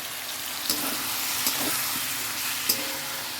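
Grated onion with ginger and garlic sizzles loudly in a hot pan, a steady close frying hiss broken by a few sharp clinks of stirring.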